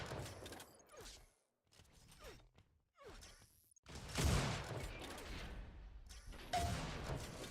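Sniper rifle shots and weapon fire in an Unreal Tournament 4 duel match, a few sharp cracks with mechanical clanks and thuds spread across the clip, busier and louder in the second half.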